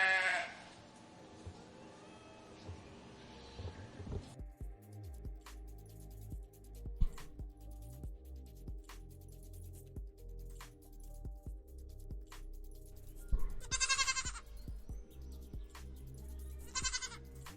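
A goat bleating, recorded as a sample for a drum machine: a couple of short wavering bleats, one at the start and a pair near the end, over a quiet background with faint clinking.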